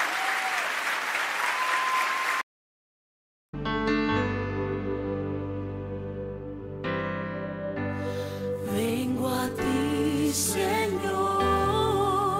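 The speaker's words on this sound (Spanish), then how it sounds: "Dale ese aplauso al Señor." An audience at a Christian music event claps loudly for about two seconds, with a voice faintly heard over it. The applause breaks off into silence, and then Christian music with instruments and singing begins.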